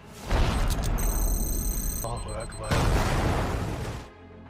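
Loud booming blasts and a rumbling explosion in a film, with music and effects, dense and continuous, ending with a drop to quieter background.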